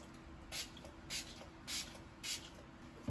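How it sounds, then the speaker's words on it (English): Four quick, quiet spritzes of setting spray, evenly spaced, each a short airy hiss against a soft background hum. "I'm going to apply the setting spray on top of it"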